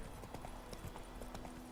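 Horse hooves in the video game The Witcher 3 clip-clop in a steady walking rhythm on a road, faint and close, over a low background hum.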